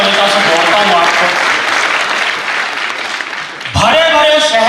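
Audience applause at a Hindi comedy poetry show, a dense wash of clapping that runs loud throughout, dips slightly near the end, then swells again.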